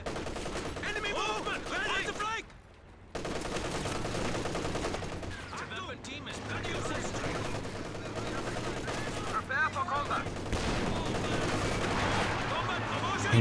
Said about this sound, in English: MG34 is just causing so much suppression